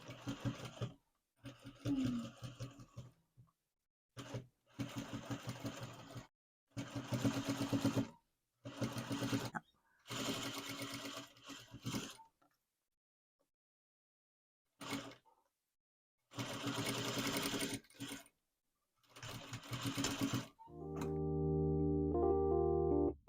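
A sewing machine stitches and tacks down fabric on a handmade garment in several close, steady motorized bursts separated by pauses, with one final longer run at the end.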